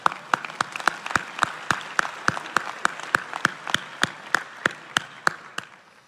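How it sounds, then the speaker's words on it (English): Steady applause from a group of people at a graduation ceremony, with individual claps spaced evenly throughout, moderately loud and fairly close. "sure, we can applaud that."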